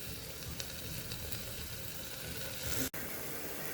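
Curry leaves and coriander sizzling with ginger garlic paste in hot oil, a steady close hiss running throughout with no talk, briefly cut by a short gap near the end.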